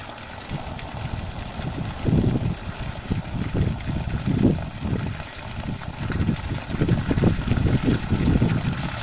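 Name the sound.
yard hydrant water running until it becomes aerated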